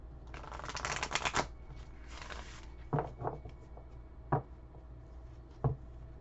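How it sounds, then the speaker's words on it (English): A Moonology oracle card deck being shuffled, two quick riffling bursts followed by several separate soft taps and knocks as the cards settle, close and quiet. "I'm going to pull from my Moonology deck."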